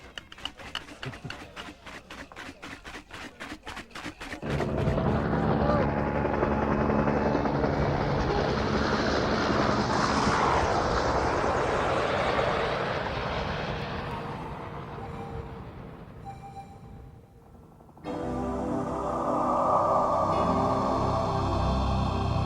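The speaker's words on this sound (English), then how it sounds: "The chopper took us where no one had ever skied before." A helicopter carrying skiers to remote untouched slopes: rapid rotor chopping at first, then a loud sustained engine and blade roar close by that dips briefly before surging back, no voices.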